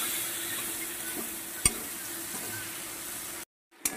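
Spices with salt and turmeric fry in a pan before leafy greens go in, making a soft, even sizzle with one sharp stir clack, then a brief drop to silence and a return.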